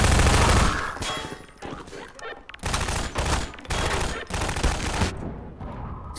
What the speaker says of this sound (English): We're getting shot at, too.